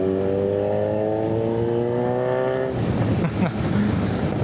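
A Kawasaki Z900 motorcycle engine idles with a steady harmonic hum, then revs up into a rougher, louder roar near the end.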